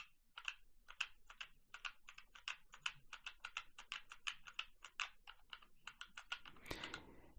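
A password is typed on a computer keyboard, about twenty quick crisp key clicks in an irregular run, close and quiet, ending with a brief louder rustle.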